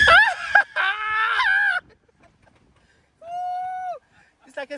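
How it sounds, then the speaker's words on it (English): A passenger screams loudly in bursts during hard acceleration in a 2023 Ford F-150 Lightning electric pickup at an auto show ride-along, with quiet gaps and a second shorter shriek following. "I've never had anybody scream like that"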